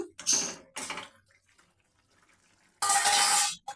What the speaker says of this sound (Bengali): আমি ভালো করে ওপর নিচে করে নেড়ে দিলাম।